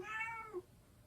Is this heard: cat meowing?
yes